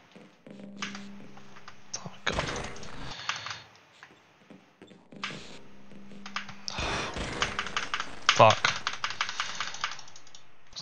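Computer keyboard keys clattering fast and irregularly during Half-Life play with a new mouse and keyboard, close and steady under game sounds, with loud bursts of in-game noise.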